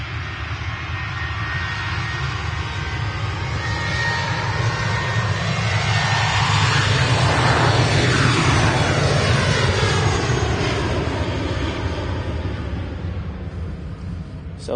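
A Lufthansa Airbus A321neo airliner touches down at Manchester Airport, a steady jet roar that swells to a peak mid-clip with a sweeping pitch shift as it passes, then eases, with no talk.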